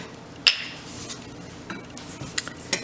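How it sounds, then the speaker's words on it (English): A spoon stirs cinnamon into pancake syrup, giving a sharp clink against the container followed by a few lighter taps and scrapes, close and sparse over a quiet background. "I kind of like to stir that in a little bit before I add the vanilla"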